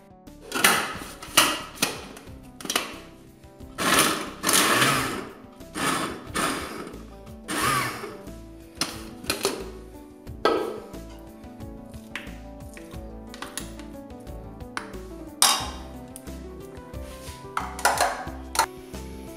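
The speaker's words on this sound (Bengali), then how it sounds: "এখন এইভাবে আমি সব কিমা করে ফেলবো।" Meat being minced into keema in a kitchen: a series of loud, sharp chopping and mechanical bursts, some grouped close together, with quieter scraping and knocks between them, heard near and with no talking.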